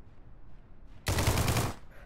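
A burst of FAMAS bullpup rifle fire in a video game: about three-quarters of a second of loud, rapid automatic shots cutting in after near-silence, then stopping abruptly.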